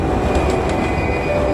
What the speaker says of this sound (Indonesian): kereta tram melintas.